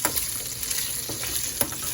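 Beef chuck fries in its own fat in a pan for salsa verde, making a loud, continuous sizzle. A few sharper pops and clinks of stirring stand out along the way.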